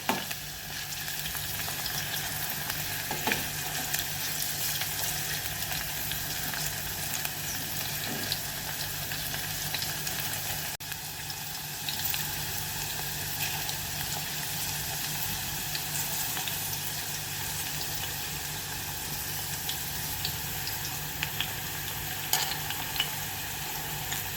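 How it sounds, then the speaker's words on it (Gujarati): Okra frying in a pan gives a continuous, even sizzle and crackle for over twenty seconds, broken now and then by faint stirring scrapes, close and steady with no talking. "તો આપણા ભીંડા હવે ફ્રાય થઈ ગયા છે।"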